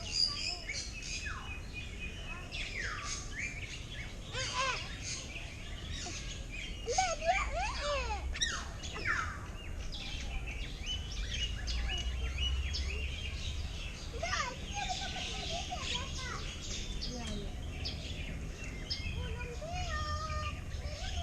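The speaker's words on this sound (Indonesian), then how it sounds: "burungnya lagi nyanyi" A small bird sings in a bird park, with repeated bright chirps and short warbling phrases, while children and adults talk and play nearby.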